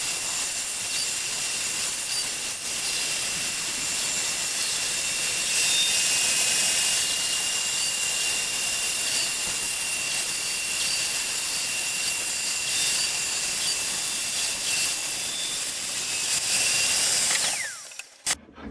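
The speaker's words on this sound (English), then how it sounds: "The form was then cut on the bandsaw." A bandsaw cuts through a laminated wooden boat stem form, a loud, steady whine with a sustained high tone that runs unbroken for most of the stretch before cutting off abruptly near the end.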